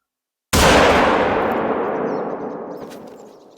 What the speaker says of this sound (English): That was a fairly good shot.